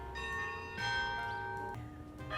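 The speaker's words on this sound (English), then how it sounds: "And the church bells are also beautiful." Church bells in San Miguel de Allende, Mexico, ring out in sustained, overlapping peals with shimmering tones, fairly loud and close, a fresh strike renewing the chime partway through.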